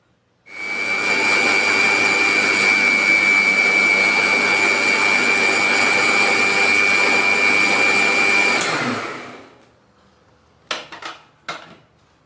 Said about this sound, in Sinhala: අපි මේ ටික බ්ලෙන්ඩර් කරගන්න ඕන.